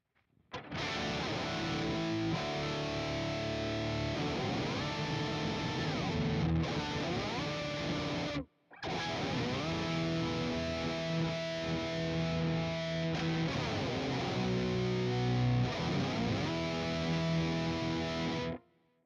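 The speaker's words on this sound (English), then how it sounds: "It's actually the Thunderclaw with the Pog with the whammy, and they all operate together." An electric guitar runs through a Thunderclaw fuzz, a POG octave pedal and a whammy pedal, giving a thick, saturated, pitch-shifted wall of sound. Chords and bends ring loudly with one brief break partway through.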